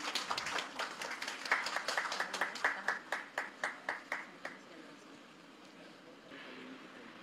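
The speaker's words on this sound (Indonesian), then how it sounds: "Boleh kita berikan tepuk tangan sekali lagi" An audience applauds at a formal government ceremony in Indonesia, a brisk round of clapping that fades out after about five seconds, followed by a quieter room with faint voices.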